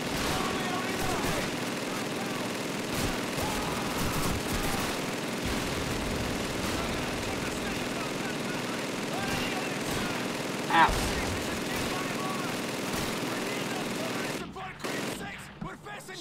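Dense, continuous battlefield gunfire from Call of Duty 2's British campaign at El Alamein, rattling steadily for most of the stretch with a sharper shot standing out near the end, under a talking voice.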